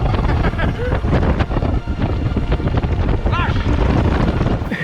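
Strong wind in the Alps buffets the microphone in a continuous loud roar, with rushing, gusty noise throughout and no clear speech.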